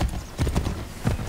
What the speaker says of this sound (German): Ich reite mein Pony.